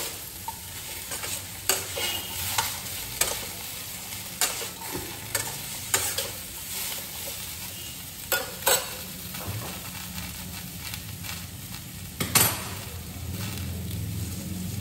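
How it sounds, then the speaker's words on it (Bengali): Vegetables with turmeric and salt stirred in a pan over low heat, a steady soft sizzle broken by repeated spatula scrapes and knocks against the pan, close and unhurried. "এইবার হলুদ আর নুনটা এটা ভালোভাবে মাখাতে হবে, কম আঁচ করে।"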